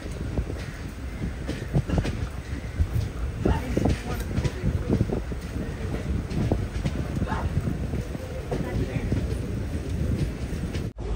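A passenger train on the Guruvayur to Ernakulam run pulls into Ernakulam Town railway station, with a continuous close rumble and rhythmic wheel clatter that holds steady throughout, a voice speaking over it now and then.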